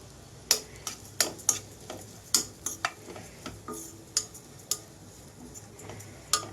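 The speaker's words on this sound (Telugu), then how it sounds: "నెయ్యి కొంచెం హీట్ అయ్యాక ఓట్స్ అన్నీ వేసి వేయించుకుంటున్నాను" Oats frying in ghee on a low flame with a spoon stirring them in the pan, giving sharp intermittent scraping taps over a soft, steady sizzle, close and alone.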